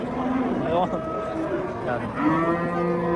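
Cattle low with long, loud, drawn-out moos at a busy livestock market where oxen are being traded, while people talk close by throughout.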